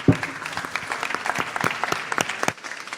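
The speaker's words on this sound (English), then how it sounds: "Yes, let's give them a round of applause." A conference audience gives a panel on cryptocurrency and art a round of applause, a fairly close burst of brisk, overlapping claps that fades out near the end.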